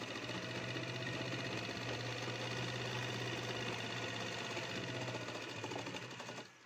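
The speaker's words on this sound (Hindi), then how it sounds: "यहाँ से लेके यहाँ तक। इस तरह से यहाँ पूरे राउंड में इस तरह से सिलाई लगाएंगे।" A sewing machine runs steadily while stitching the side seam of palazzo pants, a close, continuous mechanical whir with a rapid needle rhythm that slows and stops at the end.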